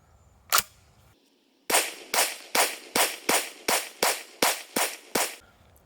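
An Eternal Arms 20 gauge semi-automatic shotgun fires one shot, then after a pause a rapid string of about ten loud, sharp blasts in an even rhythm, close and dominant with no talking.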